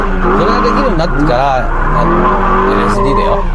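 Car power-sliding and drifting with the engine revving hard, wavering engine pitch rising and falling over steady loud road and tire noise, continuous throughout.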